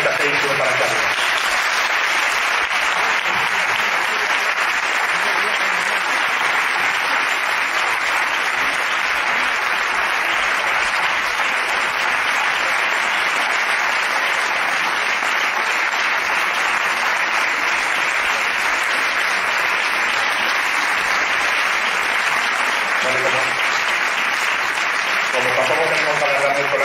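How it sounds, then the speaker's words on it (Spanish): An audience at a tribute event for a folklore school claps in sustained, dense applause that fills nearly half a minute at an even level, with scattered voices faintly beneath it. "Este aplauso es para ti"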